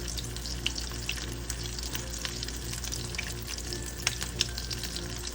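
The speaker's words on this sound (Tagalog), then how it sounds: "wag nyo i-move around yung patty habang niluluto" A beef burger patty fries in a hot pan, giving a steady close sizzle with scattered pops and crackles throughout.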